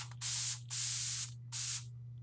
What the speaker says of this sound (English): think of how many people in America alone buy just an air freshener and it has aerosol spray in